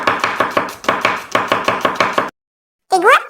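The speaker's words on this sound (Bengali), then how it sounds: "এইটা বলে কাটিং।" A knife chops onions on a kitchen board in a quick, even rhythm of about a dozen loud close strokes, then stops abruptly; after a short silence a brief warbling tone sounds.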